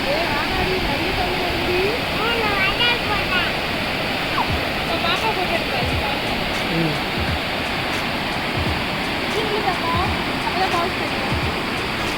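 Steady, loud rushing roar of Lakkam Waterfalls in Munnar during the monsoon, broadband and continuous throughout, with faint voices murmuring underneath.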